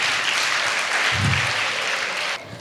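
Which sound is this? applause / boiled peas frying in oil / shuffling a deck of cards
applause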